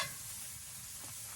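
Vegetables sizzle steadily in hot oil as they are turned in a pan, a close, continuous frying hiss with faint scraping of stirring.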